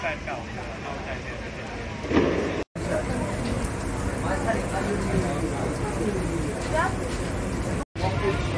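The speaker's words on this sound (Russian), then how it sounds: "застали такой сильный дождь" Heavy rain pours down steadily on a Melbourne street at 1 a.m. on New Year's, a dense continuous hiss with brief interruptions, and faint voices and passing noises blend into the background.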